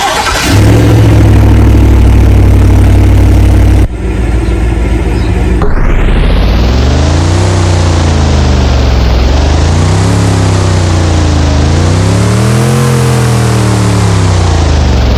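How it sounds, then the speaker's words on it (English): A 2024 Chevrolet Tahoe Z71 in the Driving Empire video game starts up with a loud crank and catch, then settles into a steady mid-pitched idle broken by several rising and falling revs, close and alone. "we got the 2024 Chevrolet Tahoe Z71"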